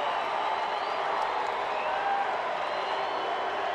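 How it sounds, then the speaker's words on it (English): A baseball stadium crowd in Denver roars for Yuli Gurriel's home run, a dense, sustained wash of cheering with a commentator talking over it. "Listen to Houston West cheering on Yuli."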